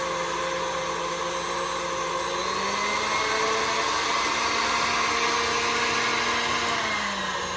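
An electric mixer whirs steadily and close, beating butter and sugar for banana bread in a continuous motor drone whose pitch drifts slightly as it works, with no voices.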